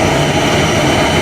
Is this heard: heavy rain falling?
no